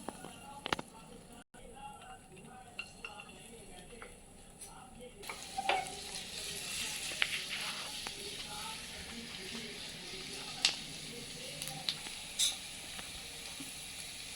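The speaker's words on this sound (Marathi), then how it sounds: "एका पॅनमध्ये साजूक तूप टाकलेलं आहे. त्यामध्ये थोडंसं चिरलेलं लसूण," Chopped garlic fries in ghee in a pan, giving a continuous soft sizzle with scattered crackles and occasional scraping stirs, fairly close and steady throughout.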